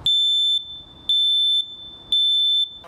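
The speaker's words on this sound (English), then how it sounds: "make sure your children are familiar with the sound of a smoke alarm" A smoke alarm sounds three loud, piercing electronic beeps, each about half a second long and spaced evenly about a second apart, with quiet between them.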